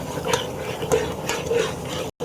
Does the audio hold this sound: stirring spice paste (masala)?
yes